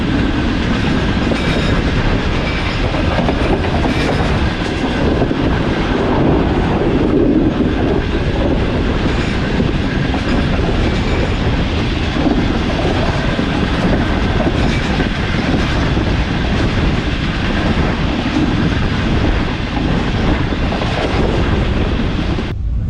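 Shalimar Express carriage rattling and clattering along the tracks between Karachi and Multan, a loud, dense, continuous rumble with rhythmic clicks and squeaks, heard from inside the moving train without talk.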